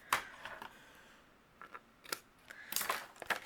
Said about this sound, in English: You may have to trim off the excess on this side just a little bit.